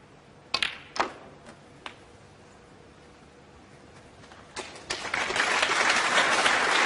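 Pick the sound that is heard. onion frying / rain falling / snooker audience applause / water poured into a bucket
snooker audience applause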